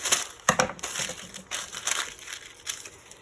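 Parchment paper is folded for lining a vanilla cake pan, giving continuous close crinkling and crackling with several sharper crisp bursts, loud and alone without talk.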